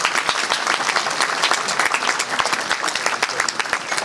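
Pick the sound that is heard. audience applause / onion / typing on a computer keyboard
audience applause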